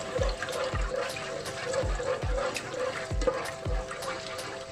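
Garlic ginger paste frying in hot oil in a pan, a continuous close sizzle with regular soft knocks of stirring.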